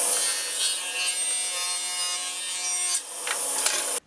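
A router cutting circles out of wood gives a loud, steady whining grind that holds for about three seconds, briefly eases, then carries on until it stops abruptly.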